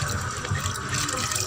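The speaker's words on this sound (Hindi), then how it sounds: "अब इसमें मैं ये चावल शामिल करने लगी हूँ।" Soaked, washed rice tipped into a pot of water for kheer, giving a steady watery splash and pour that continues throughout, close and fairly loud, with no talking.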